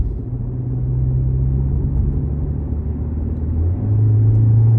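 Low engine rumble from inside a BMW 530i with variable exhaust, steady at first while cruising slowly, then the tone rises and thickens near the end as the car accelerates; no voices.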